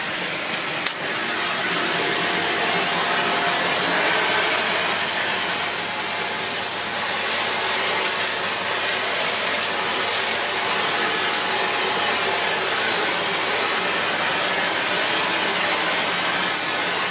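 A cordless Shark Powered Lift Away NV681UKT vacuum cleaner runs with its hose and wand attached, producing a loud, steady rushing whoosh that starts abruptly and continues unbroken.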